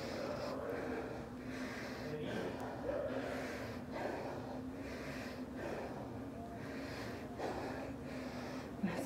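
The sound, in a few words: person breathing at physical therapy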